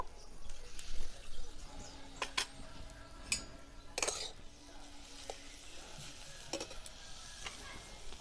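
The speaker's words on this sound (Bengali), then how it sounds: "নারকেলগুলো কড়াইয়ে দিয়ে দেব" Grated coconut being stirred in a hot wok: a spatula scrapes and clinks against the metal in irregular strokes over a low background sizzle, fairly close, with no talking.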